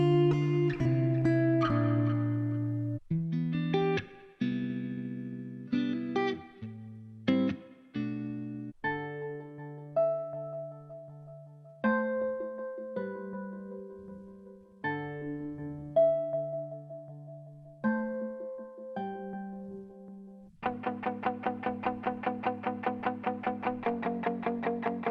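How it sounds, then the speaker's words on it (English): Hip-hop guitar samples previewed one after another in Splice on iOS: short plucked and strummed phrases with effects and distortion, each cutting off abruptly, ending with a rapid repeated picked figure; no talking. "We'll go to Instruments, and we'll go to Guitar, and let's again search for hip-hop."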